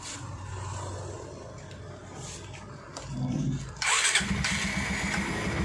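A Bajaj Pulsar 125 BS6 motorcycle, converted to a carburetor, cranks and catches near the end, settling into a steady, close, throbbing idle after quieter mechanical noise.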